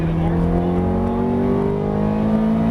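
A Ferrari F430 engine runs under throttle on a track, its steady rising drone climbing gradually in pitch as the car accelerates, loud and close.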